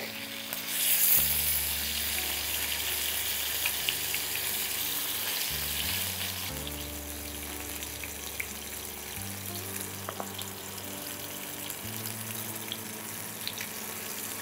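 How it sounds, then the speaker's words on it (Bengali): Pieces of katla fish and vegetables fry in oil in a pan, a steady loud sizzle that runs throughout with occasional stirring and scraping, and no talking. "তুমি এটা করছিলে বলে আমার মাছটাও ভাজা হয়ে গেল"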